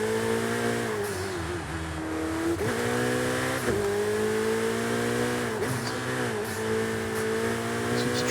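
Turbocharged car in Forza Horizon 5 accelerating hard, a loud continuous engine roar with stacked harmonics climbing through several gear shifts, each marked by a brief dip and rise over about eight seconds.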